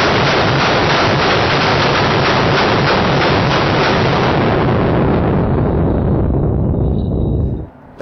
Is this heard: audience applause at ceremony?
no